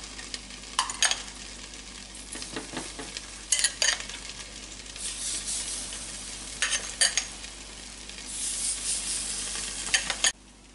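Mango appe batter sizzling in an oiled appe pan over low flame, a close hiss with bursts of louder frying as batter is spooned in, plus clinks of the spoon against the pan.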